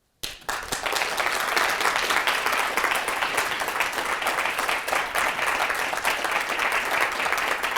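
An audience applauds after a speech, with dense, sustained clapping from a large crowd that starts abruptly and continues steadily at full volume.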